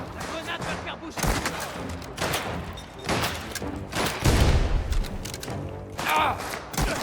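Chaotic gunfire and thumping impacts from the video game Mafia: The Old Country, a busy shootout of shots and booms heard under frantic shouted voices.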